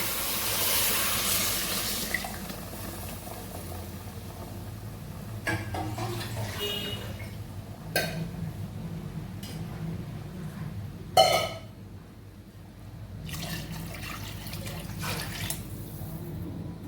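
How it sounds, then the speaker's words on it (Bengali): Water poured into a cooking pot for khichuri, a rushing wash of liquid at the start, followed by sparse clinks and knocks of utensils against the pot in a quiet kitchen. "জল দিয়ে দিলাম।"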